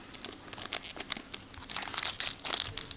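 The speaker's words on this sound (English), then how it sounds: "We can just rip down the side." Foil wrapper of a Force of Will Millennium of Ages trading card booster pack being ripped down the side, a close, crinkly tearing and rustling that builds over about three seconds, with no talking.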